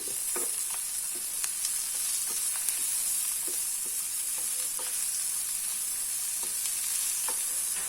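Onion, curry leaves and ginger sautéing in a pan, a bright continuous sizzle under scattered taps and scrapes of a stirring spoon, steady and close with no voices.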